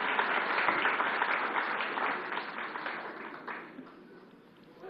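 A studio audience at the Agenda Aajtak event applauds to welcome Delhi Chief Minister Arvind Kejriwal, a steady burst of clapping that gradually softens over five seconds.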